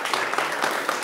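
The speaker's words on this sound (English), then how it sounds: "Yeah, applaud him too." A startup competition audience applauds, a dense, steady patter of clapping across a large room, brief and continuous.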